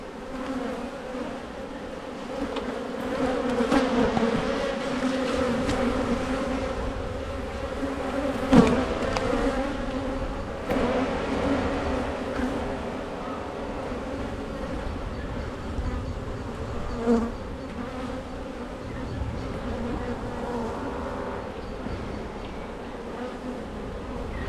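Honey bees swarm loudly around an open beehive full of honey, and their dense, steady buzzing fills the air close by without a break.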